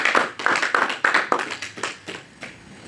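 A church congregation claps in acclaim of the word of God: a quick run of loud, close hand claps that thins out and fades over a few seconds.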